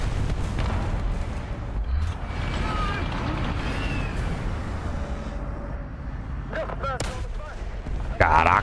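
Tank cannon shots and explosions in War Thunder, a few heavy booms spread over a battle scene with a player's voice heard speaking between them.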